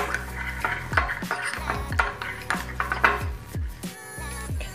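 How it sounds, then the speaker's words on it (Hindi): A spoon clinks and scrapes against a bowl while homemade orange peel cream is stirred and mixed, sharp metallic knocks repeating in an uneven rhythm close by. "हम इसे मिक्स करेंगे, थोड़ा और ऐड करूँगी इसमें।"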